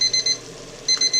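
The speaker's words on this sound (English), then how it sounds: "I had the timer set for 1 minute." A kitchen timer beeps while taco soup with ground beef is being made, sounding in two quick bursts of rapid, shrill electronic beeps separated by a short pause, loud and close.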